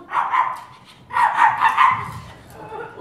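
A human voice imitates a small dog, yapping in two quick bursts of high, nasal barks with a short pause between them.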